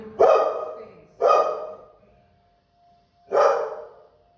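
A dog barks at birds flying past, three loud, close, sharp barks spaced about a second apart, each trailing off into a short rough tail.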